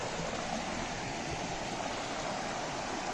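A river flows steadily in a remote outdoor spot, a dense, continuous rushing wash of water that holds an even level throughout, with no voices.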